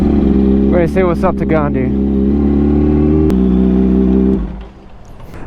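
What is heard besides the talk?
big truck driving behind a bicyclist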